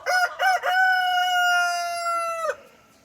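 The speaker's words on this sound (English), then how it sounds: "now that's a rooster right there" A rooster crows nearby on a farm in Georgia, with two short opening notes followed by a long, loud sustained call that fades out cleanly in open air.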